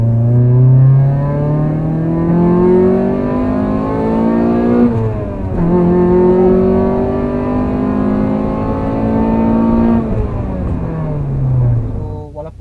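A Honda Accord Euro R engine revs up loudly as it accelerates, its pitch climbing, dropping at a gear change, then climbing again before easing off.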